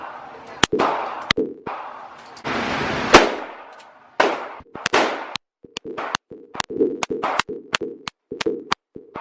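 Automatic gunfire from a machine gun at a Las Vegas shooting range, aimed at targets. The shots come as loud, sharp cracks, first in scattered bursts, then as a quick run of single reports near the end, with range noise between them.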